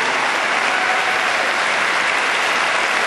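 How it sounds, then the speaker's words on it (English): A summit audience at a Relay For Life event claps loudly and continuously for a family, a dense, even wash of applause with no voices. "give them a round of applause"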